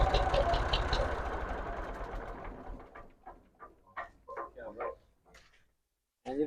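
A tractor engine idles with a dense, steady rumble, then winds down and fades as it is switched off, leaving quieter scattered sounds and brief bird-like calls.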